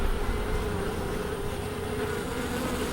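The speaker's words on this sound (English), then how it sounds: "you can hear the excitement of the bees" Honey bees buzzing inside a neglected hive, a dense, steady drone that stays loud and unbroken close by, with no voices.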